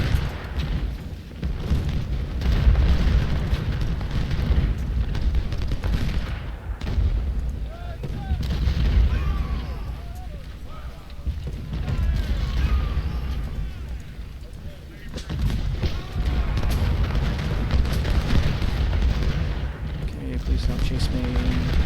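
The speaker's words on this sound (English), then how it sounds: "Yeah, there's some artillery." Artillery fire in the video game Ultimate General: Civil War rolls as a constant low rumble of booms beneath someone talking throughout.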